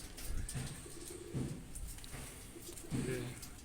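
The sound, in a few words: pigeons cooing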